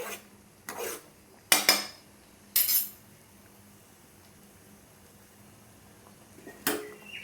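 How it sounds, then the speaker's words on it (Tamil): A utensil stirs moringa leaf soup in a metal pot, giving a few sharp scraping and clinking strokes, then quiet, then one more clink, close and clear with no talking. "நல்லா கிண்டி விட்டுக்கலாம்."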